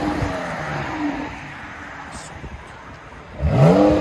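A 2016 Dodge Durango Limited with a 3.6L V6 and resonator-deleted exhaust idles with a low rumble, then revs up sharply near the end, heard from close outside the vehicle.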